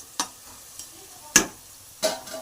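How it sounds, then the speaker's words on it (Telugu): Chopped onions frying in a pan for spicy Nellore-style farm chicken fry, stirred until reddish; four short, separate scraping stirs break a quiet, faint background. "రెడ్ కలర్ షేడ్ వచ్చేదాకా బాగా ఫ్రై చేసుకుందాం"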